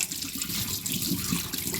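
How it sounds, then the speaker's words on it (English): Water being poured off soaked fermented corn and millet for pap runs in a steady, close splashing trickle with small gurgles, continuous throughout. "today I'm going to be blending it, so I'm removing the water right now"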